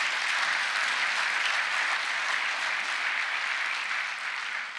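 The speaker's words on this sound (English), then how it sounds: "Please, a big round of applause for Wally." A large audience at an awards ceremony claps steadily and loudly for several seconds, a dense continuous wash of applause with no speech on top.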